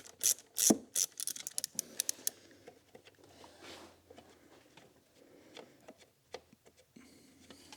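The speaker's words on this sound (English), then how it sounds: "Using that same size socket from the aircon pipe." Socket ratchet working on the intake manifold connection of a car engine, a burst of close, sharp clicking and ratcheting early on, then scattered softer taps and scrapes of tools against metal.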